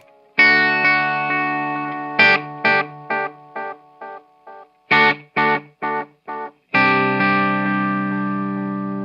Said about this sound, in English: So let's hear the maximum delay.